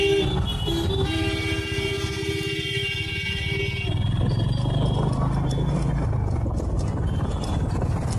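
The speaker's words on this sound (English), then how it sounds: "I don't know why this guy is honking a lot." A vehicle horn blares repeatedly on a city road, sustained loud honks over steady engine and traffic noise that fade into rumbling road sound.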